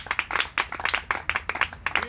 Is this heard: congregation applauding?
yes